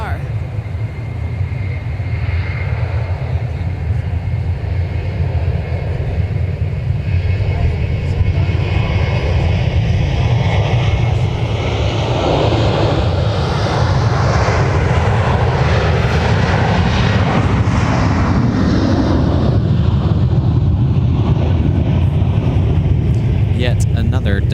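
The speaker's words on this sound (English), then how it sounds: "Yet another Delta 739ER off to Las Vegas, Nevada." A Delta Boeing 737-900ER takes off from Minneapolis–St. Paul airport bound for Las Vegas, a loud continuous jet roar with a rising and falling sweep as it passes, some wind rumble underneath.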